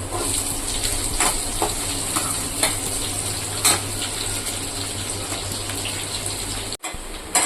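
Small shallots and garlic sauté in oil for a fish gravy, a constant close sizzle broken by occasional spoon scrapes against the pan, with no talk and a brief cut near the end.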